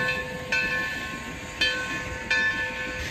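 A steam logger train with flat cars carrying logs pulls out of a depot: rhythmic chuffs and three sharp bursts of steam over a steady hum, with a high whining tone throughout.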